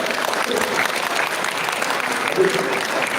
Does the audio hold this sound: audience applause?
yes